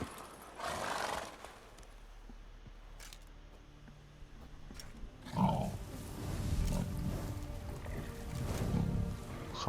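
Roach, a horse in The Witcher 3 video game, gives a whinny early on, then hooves clop and thud more loudly in the second half against a low ambient background.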